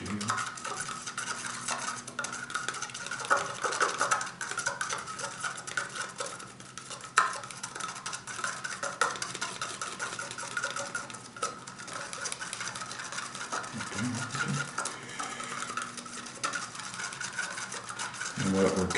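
Model paint is stirred and mixed in a small container, producing a continuous close scraping and swirling with light clicks of the mixing tool against the sides, steady and fairly quiet over the whole stretch.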